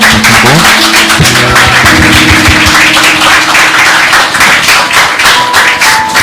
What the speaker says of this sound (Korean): 요셉 형제한테 좀 큰 박수 부탁드리고